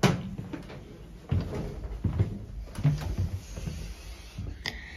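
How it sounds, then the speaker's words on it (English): Lift doors at a DFS store in the Gallagher retail park, Wednesbury, opening and closing with soft thuds and rumbling movement, close by, over a steady hum and a background tone. "Doors open."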